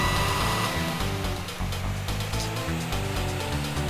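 A track from the 1986 Sega arcade racer Out Run plays as a bright, busy synth tune with a steady rhythmic bassline and layered melody, loud and continuous.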